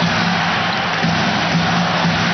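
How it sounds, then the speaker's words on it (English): A basketball arena crowd roars and cheers during a playoff game, a loud, dense, continuous wall of voices that holds steady for a couple of seconds. "The crowd back into it again."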